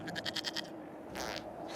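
A goat in Dragon Age: Inquisition bleats in a quick, quavering series of pulsed cries, fairly quiet, followed by brief rustling game ambience.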